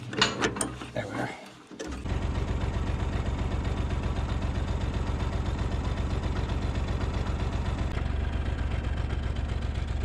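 An old tractor engine runs steadily with a fast, even mechanical chugging while working a new hydraulic boom; after a brief clatter and a short lull near the start, the loud rhythmic throb continues alone.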